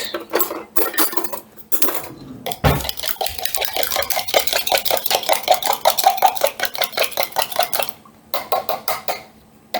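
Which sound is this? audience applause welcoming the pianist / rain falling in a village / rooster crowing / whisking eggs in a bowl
whisking eggs in a bowl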